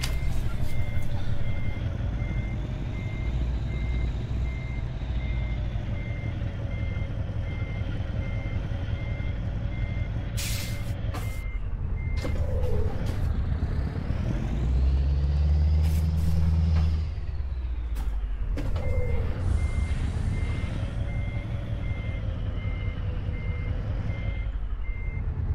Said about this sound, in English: Now I've got to reverse the truck all the way back.